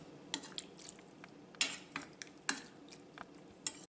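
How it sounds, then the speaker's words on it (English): Guvar dhokli sabzi, a Kathiyawadi cluster bean and dhokli curry, stirred in a pot with a spoon: a run of scraping clinks and soft knocks against the metal, with a louder scrape near the middle and quieter ones after. "Again, just mix it real good."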